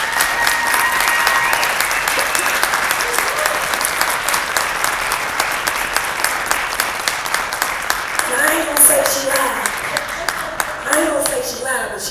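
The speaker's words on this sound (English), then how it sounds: "Give Miss Ivey another round of applause." A crowd gives a warm round of applause at a live storytelling podcast event in Newport News. The clapping is loud and sustained throughout, with scattered cheers and voices mixed in, then eases slightly near the end.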